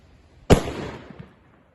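One sharp Dum Bum firecracker bang bursts out nearby, then fades into a short rumbling echo in an otherwise quiet outdoor space.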